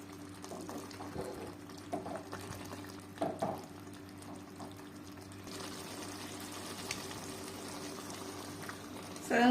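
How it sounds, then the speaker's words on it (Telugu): Half a glass of water is poured into a pan of mutton curry with tomatoes, a soft close splashing trickle over quiet kitchen background hum, with a few faint clinks. "సగం గ్లాస్ వాటర్ పోసుకున్నా"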